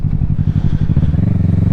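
A Kawasaki Ninja 650 with a loud aftermarket exhaust rumbles close by, its rapid, throaty, pulsing idle and small throttle blips filling a short burst.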